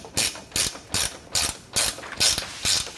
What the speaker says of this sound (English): I really like these ratcheting sonic wrenches.